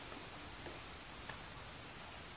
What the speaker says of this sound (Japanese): とはいえ雨だしな